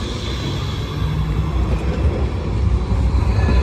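A low, rumbling tram rolls by on a city street in Szczecin, Poland, its rumble swelling as it nears, with broad traffic noise and no talking.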